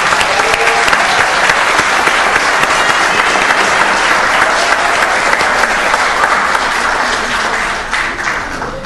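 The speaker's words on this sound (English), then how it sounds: "Let's give them all a big round of applause." Sustained audience applause fills a city council meeting chamber, a dense, steady wash of many hands clapping at close range that holds throughout and eases off slightly at the very end.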